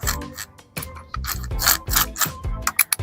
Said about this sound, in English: I'm going to use my multi-depth bit, which will cut through anything